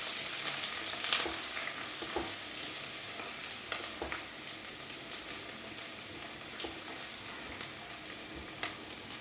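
Sliced ginger and garlic sizzle and fry in a hot pan for a Malayali curry, a steady crackling hiss with occasional stirring clicks and scrapes, close and moderately loud, with no talking.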